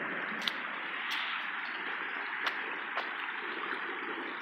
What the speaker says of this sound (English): There's a lot of water coming down in 10 minutes.